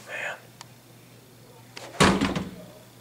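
A hotel room door at a Hampton Inn & Suites opens and shuts, with a sharp latch click and a solid thump followed by brief rattling, close by after a quieter stretch with faint talk early on.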